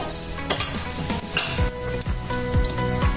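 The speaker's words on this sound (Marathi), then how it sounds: "आता तेल तापवल्यानंतर त्यामध्ये मोहरी जिरा" Mustard seeds and cumin sizzling in hot oil while cooking aloo palak, with sharp pops and crackles over a steady frying hiss, plus clinks of a spoon against the pan, close and fairly loud.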